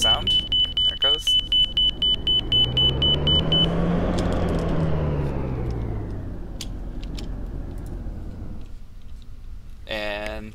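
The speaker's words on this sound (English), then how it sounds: "As I back up further, the inner marker beacon should sound." A steady high simulated marker-beacon tone from a runway navigation simulation, pulsing in rapid repeated bursts for a few seconds and then stopping, set against a broad engine-like rumble that swells and fades.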